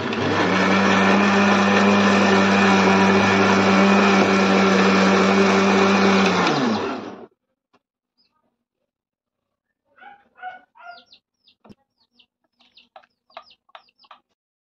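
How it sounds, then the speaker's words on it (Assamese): A mixer grinder blends washed ingredients for a dried fish and mint chutney, a loud, steady motor whine lasting about seven seconds before it winds down and stops, followed by quiet, scattered clucking and bird calls. "ধুনীয়াকৈ ধুই পখালি এইখিনি মিক্সি গ্ৰাইণ্ডাৰত মাৰি ল'ম।"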